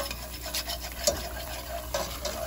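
A whisk scrapes and rubs steadily through butter and half a cup of all-purpose flour in a pan, making a roux for lobster and shrimp mac and cheese; the soft swishing is close and continuous.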